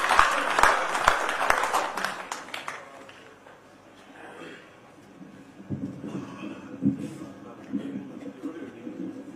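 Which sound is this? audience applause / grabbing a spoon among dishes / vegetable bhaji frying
audience applause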